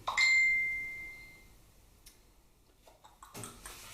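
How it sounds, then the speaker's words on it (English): A mobile phone gives a single clear notification ding that rings out and fades over about a second and a half, in a quiet room with faint ticks and small handling sounds afterward. "Please excuse my phone."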